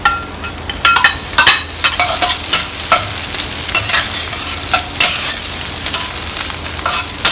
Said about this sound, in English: All you got to do is stir fry all the ingredients with the glutinous rice together